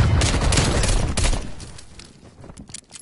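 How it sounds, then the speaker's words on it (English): Stun grenade blast followed by rapid gunfire in a tactical shooter video game: a loud dense burst of shots that fades over the last second and a half. "Stun grenade."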